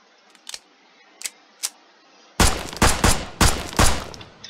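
Gunfire in the video game Brick Rigs, with three faint, distant single shots followed by four much louder, sharp blasts in a fairly even sequence, with no speech.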